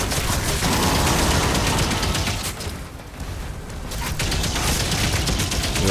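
Dense, loud gunfire in the video game Doom: The Dark Ages comes as a rapid, continuous volley of shots and blasts, easing briefly in the middle before building again.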